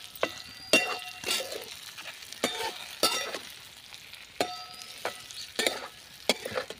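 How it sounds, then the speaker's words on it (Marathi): Brinjal sizzling and frying in a pan while a spatula stirs it with repeated scraping and clinking strokes, close and steady throughout. "तर वांगे आपण छानपैकी परतून घेतलेली आहे."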